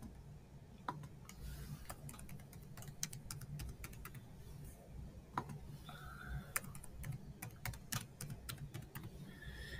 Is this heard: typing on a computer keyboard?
yes